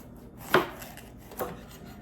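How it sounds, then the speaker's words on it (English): A knife chops through a green pepper on a cutting board, two distinct close thuds about a second apart with quieter handling in between. "next step, cutting up our green pepper"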